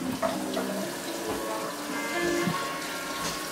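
Tap water runs steadily into a sink as fresh fruit for lemon-lime summer drinks is rinsed in cold water, with light clattering and splashing from handling throughout, close by and fairly quiet.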